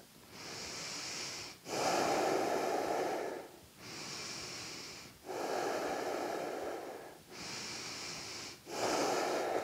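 Slow, deep breaths during a gentle restorative yoga session, close and airy, alternating long inhales and exhales in an even rhythm with brief pauses between, no talking.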